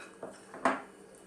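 Chicken pieces are tossed in a bowl to coat them, giving two short clinks of a utensil against the bowl, the second one louder. The sound is close and brief.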